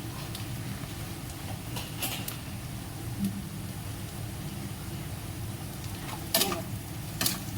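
Chicken 65 pieces deep-fried in oil make a steady broadband sizzle throughout, with a few brief sharp clinks of a utensil near the end.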